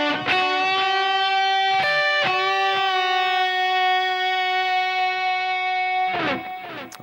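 An electric guitar with distortion plays an opening fill phrase, quick picked notes and bends settling into a long sustained bent note, loud and close with no talking.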